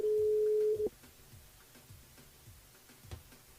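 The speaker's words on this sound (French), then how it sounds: "On appelle Marika du côté de Saint-André." A telephone ringback tone on a radio call-in show sounds as one steady electronic burp lasting almost a second, loud and clean, then cuts off into faint line clicks and low background.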